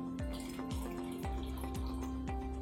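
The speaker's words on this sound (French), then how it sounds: "on va verser les ingrédients dans cet ordre-ci, en commençant par le bitter" Bitter liqueur poured over ice into a glass to start a spritz cocktail, a steady close-up stream with bright liquid splashing and a few clinks of ice and glass, no talking.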